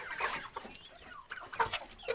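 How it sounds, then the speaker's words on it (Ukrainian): Turkeys gobble and cluck nearby in short, irregular bursts, moderately loud with some faint background noise between calls. "Дивіться, які ці індики."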